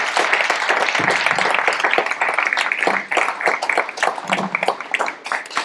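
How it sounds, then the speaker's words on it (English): Audience applause for a speaker at a Startup Grind Tallinn event, a steady dense round of clapping from a nearby crowd that holds throughout. "give him a hand of applause"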